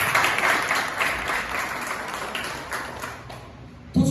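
A ceremony audience applauds in a dense, steady wash of many clapping hands that holds for several seconds, fades a little toward the end and is cut off by a short louder knock.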